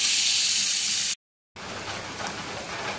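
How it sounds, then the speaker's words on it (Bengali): Potatoes frying in oil in a kadai, a dense hissing sizzle heard up close, cut by a brief silence before the frying continues slightly quieter. "আলুগুলো খুব সুন্দর লাল হয়ে ভাজা হয়ে গেছে"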